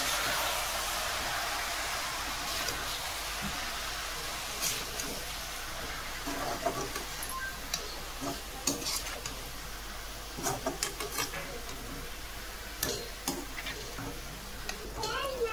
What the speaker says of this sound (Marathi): हे बघा छानपैकी मस्त अशी परतून घ्यायची आहे भाजी